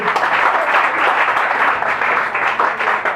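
A church congregation applauds to acclaim God, a steady, loud wash of many hands clapping close by that continues throughout.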